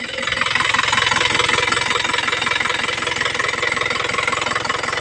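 An Isuzu Crosswind engine with a no-power problem idles steadily, its rapid rhythmic clatter and low thrum pulsing evenly up close with no voices over it.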